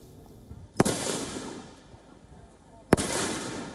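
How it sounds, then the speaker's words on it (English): Two sharp, loud gunshots ring out at a makeshift shooting range in a Myanmar forest, a couple of seconds apart. Each crack is followed by a rolling echo. "Gunshots ring out at this makeshift shooting range deep in the forests of Myanmar."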